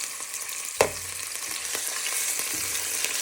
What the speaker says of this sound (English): you're placing all your pork in the pan with the oil